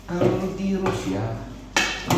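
Plates and cooking pots being washed by hand, with ceramic clinks, metal scraping and clattering dishware in bursts, close and fairly loud, under a voice speaking.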